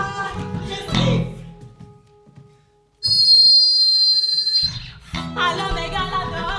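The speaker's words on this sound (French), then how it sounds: "Et là, je siffle." A performer whistles a signal on stage during a play in Mülheim, a sustained loud high whistle lasting about two seconds between stretches of spoken dialogue.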